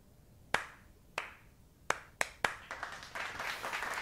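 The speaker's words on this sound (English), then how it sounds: "I'm not moving to the next joke until I get a round of applause" A comedy show audience claps in scattered single claps that build into a round of applause, with a few sharp isolated claps at first and then denser clapping toward the end.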